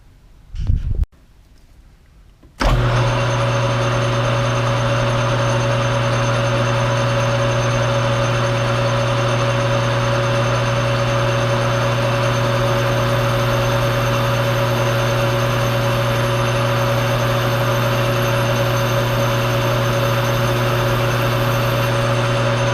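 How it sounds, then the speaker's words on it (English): Metal lathe machining a large diameter material roller, drilling a hole to be reamed for 3/8 inch; after a brief bump and pause, a loud steady motor hum with tonal whine runs continuously without talk. "we'll drill it and ream it for 3/8"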